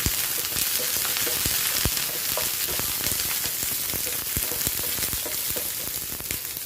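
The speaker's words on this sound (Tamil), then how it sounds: "இப்போ பேனில் எண்ணெய் போட்டு நம்ம பச்சை மிளகாயை போட்டு வதக்கிக்கலாம்" Green chillies and garlic saute in oil in a pan, a continuous loud hissing sizzle sprinkled with irregular spitting crackles and pops, heard up close with no voices.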